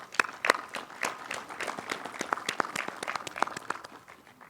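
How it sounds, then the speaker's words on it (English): A crowd at the dedication of a Vietnam memorial wall claps in a loose round of applause, individual claps distinct and fairly close, steady for a few seconds before gradually thinning out. "Please give them a round of applause for that."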